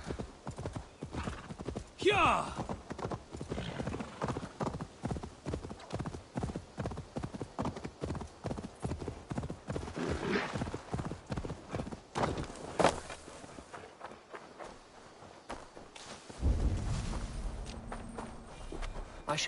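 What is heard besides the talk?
horse hooves and neighing in Assassin's Creed Valhalla video game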